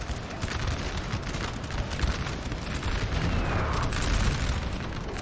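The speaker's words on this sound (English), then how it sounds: "the artillery is starting to hit this poor French" Artillery shells from Napoleon Total War hammer a French line in a 4v4 battle, a thick continuous rumble of booms and crackling bursts with no talk over it.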